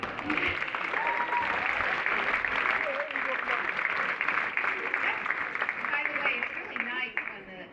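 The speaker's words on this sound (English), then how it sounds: "Students are clapping for their principal this much" High school students clapping for their principal at a celebration event, a long steady round of applause from a large crowd, mixed with shouts and chatter, holding strong before easing toward the end.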